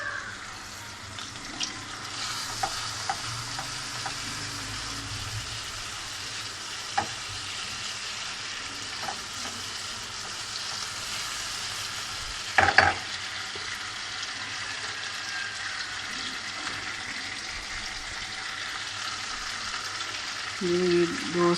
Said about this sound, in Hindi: 2-3 मिनट भून लें इसे दही में। साथ ही लहसुन पाउडर डाल दें।